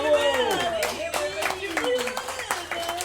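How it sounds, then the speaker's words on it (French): A small live audience claps at a public French tabletop role-playing session, scattered hand claps sounding beneath overlapping, lively voices. "Et on applaudit bien fort"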